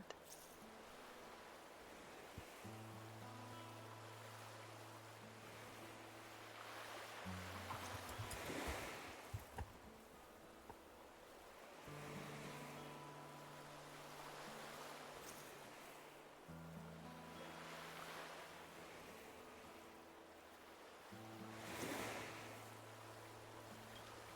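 Gentle ocean waves washing onto the beach of an Animal Crossing island, a steady soft surf wash under calm game music, with no one talking.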